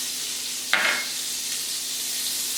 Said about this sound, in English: I'm going to go ahead and put my butter in the pan, my vegan butter